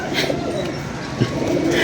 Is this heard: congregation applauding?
no